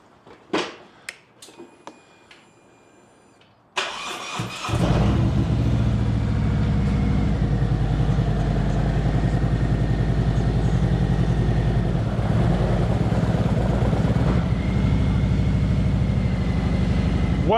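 A Harley-Davidson cruiser motorcycle engine starts with a sharp burst after a few light clicks, then holds a loud, close, steady rumble while the bike rides onto a Neo-Dyne loader ramp.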